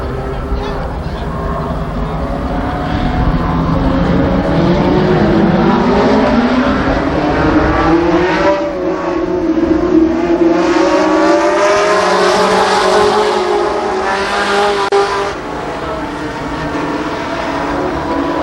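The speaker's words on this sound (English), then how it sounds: "Racing action in the late model class." Late model class race cars racing at Columbus Motor Speedway, engines roaring loud and continuous with rising and falling pitch as cars pass, under a public-address announcer's voice.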